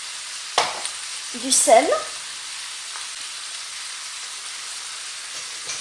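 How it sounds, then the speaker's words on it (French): Lamb pieces brown with spices in a tagine, a steady hiss of frying with a brief stir and clatter near the start, while a voice speaks a few words. "Et je laisse revenir mes morceaux de viande"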